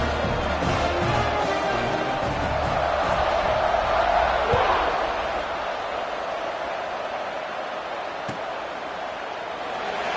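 A stadium crowd roars steadily at a football kickoff, a dense, loud wash of cheering that swells briefly mid-clip, with a commentator's voice faintly mixed in.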